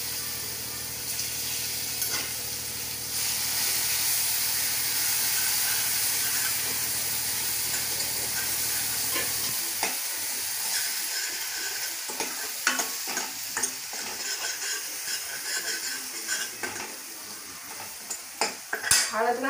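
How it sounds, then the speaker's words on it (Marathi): Crushed garlic and green chili roast in hot tempering oil, a steady close sizzle with a spoon stirring and scraping against the pan, the frying calming partway through while clinks continue. "हे लसूण आणि मिरची ठेचलेलं फोडणीत आपण भाजून घ्यायचं आहे"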